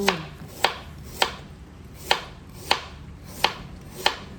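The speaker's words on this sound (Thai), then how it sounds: "จะหั่นเป็นชิ้น" Pickled bamboo shoots are sliced into pieces with a knife on a board: seven sharp, evenly spaced chops, close and clear with no talking.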